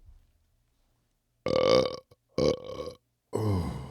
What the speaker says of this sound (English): He over here burping on.